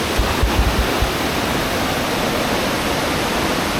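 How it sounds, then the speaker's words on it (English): A big waterfall in tropical Queensland roars as a steady, dense wash of broadband noise, close and loud, with a few low thumps near the start. "This could be a really nice waterfall"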